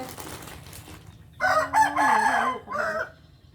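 A rooster crows once at moderate distance, a loud rising-then-falling call lasting about two seconds, preceded by faint background murmur from people nearby.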